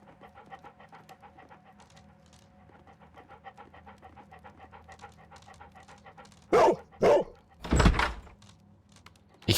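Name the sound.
dog panting and barking in a video game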